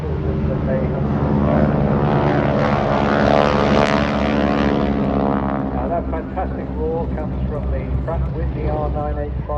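An aerobatic plane with a 9-cylinder radial engine of about 450 horsepower roars past at an air show, loud and sustained with a throbbing drone that peaks and then eases slightly as it passes.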